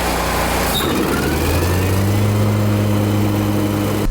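A riding lawn mower engine roars at full throttle with the deck lowered, a loud, steady close drone with a constant low hum and no talk over it.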